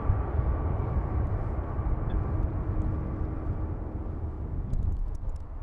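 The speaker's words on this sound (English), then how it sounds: "Hopefully today the ambient noises, the planes, are better" An airplane at Amsterdam Schiphol Airport, heard from a spot some distance from runway 27, gives a steady, loud, low roar that carries throughout with no talk.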